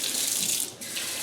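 Cold water pours from a kitchen tap in a steady, close, bright hiss that briefly dips before resuming, with no voices.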